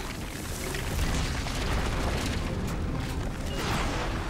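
Sound effects of explosions in a city for a children's Power Rangers TV show, a dense, rumbling roar of blasts and bursts that stays fairly faint and continuous, with no talk.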